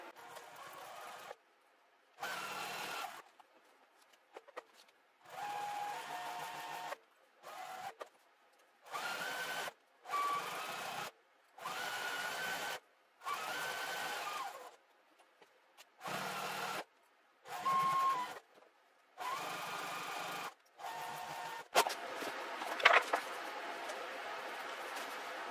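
Sewing machine running a quarter-inch seam around a quilted project, heard as repeated bursts of close, steady motor whir separated by short silent pauses, with a faint clatter near the end.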